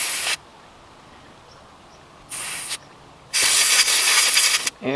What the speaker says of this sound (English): use that compressed air I went and got